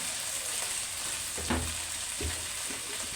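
Ginger and garlic paste sizzling and frying steadily in a hot pan for an egg and potato curry, a continuous close hiss with a couple of brief stirring scrapes, no voices.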